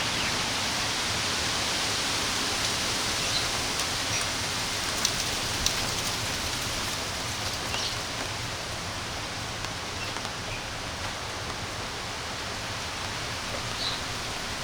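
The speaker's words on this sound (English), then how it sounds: "the winds kicked up and clouds rolled in, and before long had rain" Steady rain falls across a campground at Gunter Hill, a dense, even hiss of drops on surfaces that carries on without letup, with a few louder individual drops and nothing else over it.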